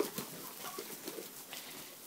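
Chickens and turkeys stirring at home as they get ready to be let out, giving soft, scattered clucks and low murmurs over a noisy, faint background.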